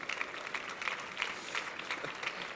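Faint, distant applause from the audience at a Fitur 2024 tourism fair presentation, heard as soft, rippling clapping that rises and falls in small waves.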